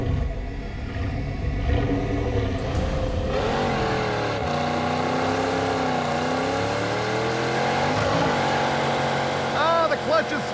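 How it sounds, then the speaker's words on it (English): A Pontiac Trans Am with a slipping clutch and dead flywheel, its engine loudly revving up and down in long climbing sweeps, the pitch wavering as the clutch fails to grab, with people talking over it. "Ah, the clutch is spinning. Ah, the clutch did not hold."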